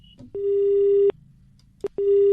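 A telephone busy signal sounds after the other caller hangs up, loud steady tones repeating in a clean on-off pattern, with faint background noise in the gaps.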